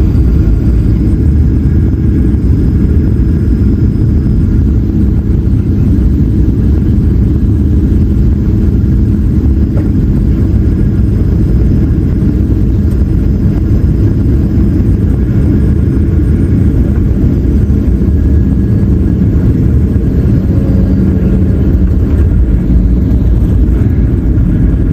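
An Airbus A380 landing at San Francisco gives a loud, continuous low rumble of engines and airflow, steady and heavy throughout with a faint high whine above it.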